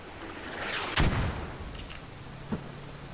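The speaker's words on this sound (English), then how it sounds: "More enemy mortar coming in." Enemy mortar artillery fire lands in a military video game: one loud, sharp blast with a rumbling low tail, followed about a second and a half later by a fainter, more distant impact, all over a steady battlefield hiss with no talking.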